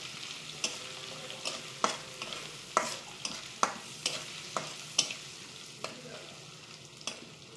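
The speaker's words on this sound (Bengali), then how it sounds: "একটু নাড়ব" A utensil stirs dried fish curry with turmeric and plantain in a pan, making regular scraping strokes about once a second over a low, steady sizzle.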